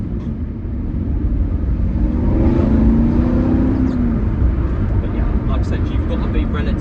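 A 2016 Aston Martin V8 Vantage S 4.7 V8 coupé with a manual gearbox drives along, its engine drone loud and continuous, rising briefly in pitch as the revs climb, with road noise underneath.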